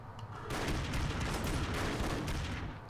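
Rapid automatic gunfire from the 2D action game Broforce, a dense, continuous burst of shots and explosive pops starting abruptly after a brief quiet lead-in and staying loud throughout.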